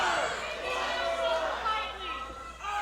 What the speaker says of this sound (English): There's a crowd calling for one more time.